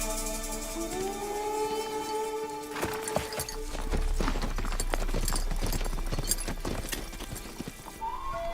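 Horses' hooves clip-clop steadily on the ground as horses are turned loose, with an occasional whinny and sustained tonal background sound throughout.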